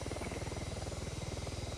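VTOL aircraft engines at full throttle in the game ArmA 3, a loud steady rotor-like drone with rapid even pulsing throughout, close and alone with no talk.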